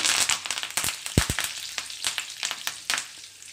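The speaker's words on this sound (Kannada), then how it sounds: "ಅದೇ ಎಣ್ಣೆಯಲ್ಲಿ ಒಂದು ಸ್ವಲ್ಪ ಜೀರಿಗೆ ಆ್ಯಡ್ ಮಾಡ್ಕೊಳ್ಳಿ" Cumin seeds and curry leaves hit hot oil left from frying eggs, crackling and spitting loudly up close with sharp pops over a continuous sizzle.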